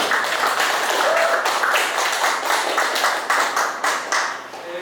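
An audience at a sound-theatre discussion event applauds in a steady, dense wash of clapping that stays fairly loud throughout and thins slightly toward the end.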